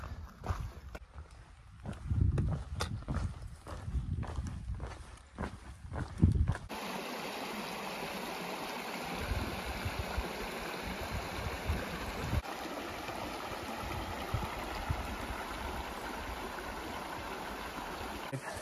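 Water flows steadily in Red Creek in West Virginia's Dolly Sods Wilderness, a continuous rushing wash, preceded by a few seconds of footsteps and thumps on the ground.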